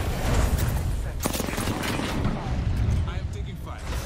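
Video game firefight with steady, dense gunfire and mechanical clatter, loud and continuous, with voices talking underneath.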